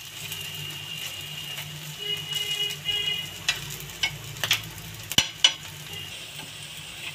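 Bottle gourd kebabs frying in a pan, with a steady oil sizzle and occasional stirring clatter plus a few sharp utensil knocks near the end, close and moderately loud, with no talking.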